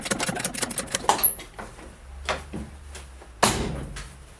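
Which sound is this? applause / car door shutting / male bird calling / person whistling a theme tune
car door shutting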